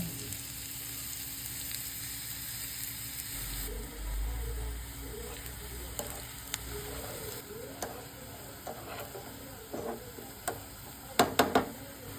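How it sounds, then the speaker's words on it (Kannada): Oil sizzles and crackles in a hot pan as onions are added for tempering a wild mushroom dish, a steady frying hiss with a few sharper pops near the end. "ಇದಕ್ಕೀಗ ನೀರುಳ್ಳಿ ಒಗ್ಗರಣೆ"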